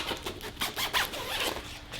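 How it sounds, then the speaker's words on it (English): A zipper on a bag pouch is pulled open and shut, giving several quick raspy zips close up and fairly quiet, with brief pauses between strokes. "Zippers are very smooth on that."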